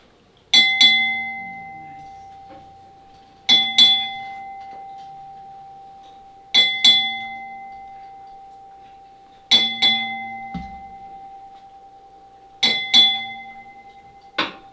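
A ship's bell is struck in Navy tradition, with five separate pairs of clear metallic rings, each pair a quick double strike that rings out and decays before the next. The strokes come about three seconds apart against a quiet room.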